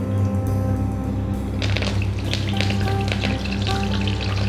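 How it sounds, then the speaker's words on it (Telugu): Chopped green chillies frying in hot oil, a steady close sizzle with light crackling and a brief scrape partway through, no voices. "ఇప్పుడు తీసేసుకుందాం ఒక మూడు నాలుగు పచ్చిమిరపకాయలు ఇట్లా ఫ్రై చేసుకుందాం"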